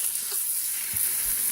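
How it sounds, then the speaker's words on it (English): Pork pieces sizzle in canola oil inside an Instant Pot, a steady close hiss with faint crackles and no talking. "we're gonna let those saute"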